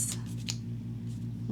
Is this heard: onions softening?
no